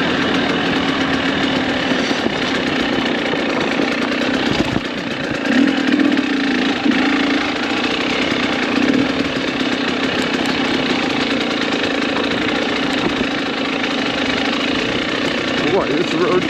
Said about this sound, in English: a guy go down here with a big old adventure KTM bike fully loaded